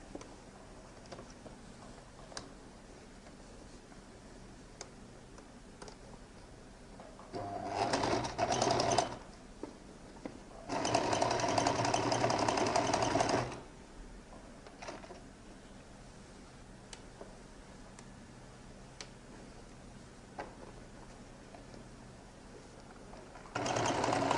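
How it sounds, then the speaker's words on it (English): A sewing machine top stitching the lining of a lady's jacket runs in two short bursts, a brief whir and then a longer steady run of several seconds, close and clear between quiet pauses. "So I'm going to top stitch on the main body here up to that slash there."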